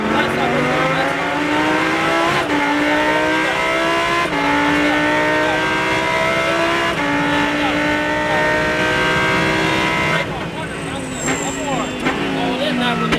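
A Lamborghini Super Trofeo race car on a track, engine loud and close as it revs up through gears with sharp shifts, then eases off while tires squeal near the end; a voice talks over it.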